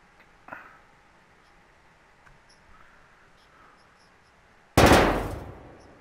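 A single loud, sharp gunshot from a battle royale video game fires near the end of the round and trails off in a fading tail, after a faint earlier crack against a quiet background.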